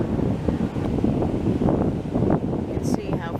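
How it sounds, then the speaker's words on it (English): Ocean waves wash onto a beach on the Virginia coast south of Jamestown while strong wind buffets the microphone, giving a continuous, fluctuating rush of surf and gusts heard up close. "And there's the ocean."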